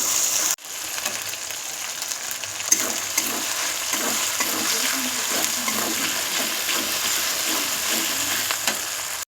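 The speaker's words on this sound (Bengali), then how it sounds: "আদাটা দিয়ে খুব ভালোভাবে নাড়াচাড়া করে ভেজে নেব, যাতে আদার কাঁচা গন্ধটা চলে যায়" Grated ginger stirred and fried in a pan for a raw-pea ghugni, giving a loud, continuous hissing sizzle close up, with faint stirring movements underneath after a brief cut near the start.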